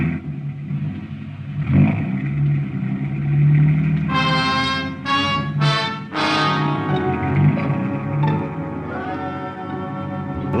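A car drives through downtown city streets as a radio drama sound effect, its engine rumbling and swelling through a few revving bursts over steady road noise, with no talk.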